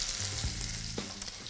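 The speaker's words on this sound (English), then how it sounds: "listen for the sizzle." A vegetarian terrine sizzles and fries steadily in a hot frying pan, a close, continuous crackling hiss with a few faint knocks.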